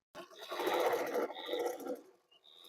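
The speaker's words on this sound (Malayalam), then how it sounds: "നമ്മൾ ഇതുപോലെ ഒരു മോശം തുണി വെച്ചിട്ട് ആദ്യം ഒന്ന് സ്റ്റിച്ച് ചെയ്യുക" Household single sewing machine running a stitch on scrap cloth just after oiling, a close whirring mechanical burst lasting under two seconds that fades out, then a sharp click at the end; no talk.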